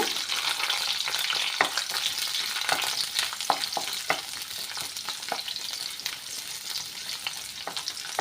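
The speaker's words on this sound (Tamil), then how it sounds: "இதை எண்ணெயில் ஃப்ரை பண்ணிக்கோங்க" Fifteen small shallots and two garlic cloves fry in oil for a Kerala chammanthi, giving a steady close sizzle with occasional sharp clicks and scrapes from stirring.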